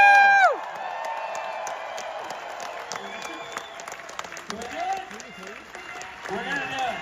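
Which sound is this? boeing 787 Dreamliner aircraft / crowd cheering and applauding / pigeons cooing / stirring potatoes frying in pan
crowd cheering and applauding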